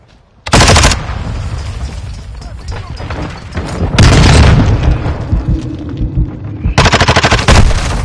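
A grenade explosion and gunfire in a military shooter video game: sharp booming blasts and rapid automatic fire break out in three loud bursts over a continuous rumbling backdrop of battle noise.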